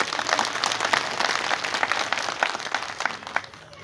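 Sustained crowd applause at a Hazara Democratic Party political rally in Hazara Town, Quetta: dense, steady clapping from many hands, fairly close and loud throughout before tapering slightly at the end, with no voices standing out.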